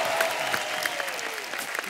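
A television comedy studio audience applauds to welcome a singer. The clapping is steady, fairly faint and distant, with faint tones running under it.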